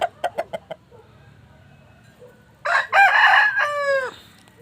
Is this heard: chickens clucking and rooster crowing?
yes